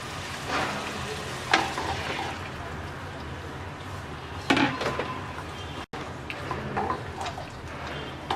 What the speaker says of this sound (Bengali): মশলা কষিয়ে নেওয়া হয়ে গেছে, এবার আম দিয়ে দিচ্ছি।